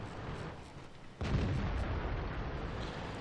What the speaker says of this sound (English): I missed a shot on him